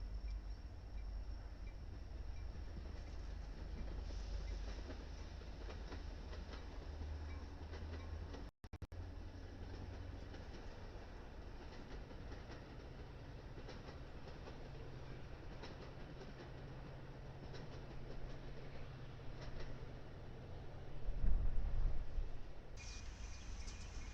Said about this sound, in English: a unique EMD SD 70M design was caught leading an intermodal train